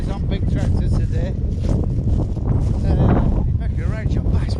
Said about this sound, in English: It's windy, isn't it? Sorry if this is nearly inaudible.